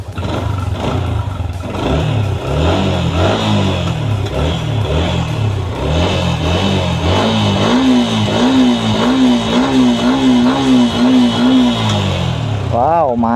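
A Yamaha MX King motorcycle engine running and revving up and down in repeated rising and falling swells, close and loud, settling into a steady idle-like putter before a final blip.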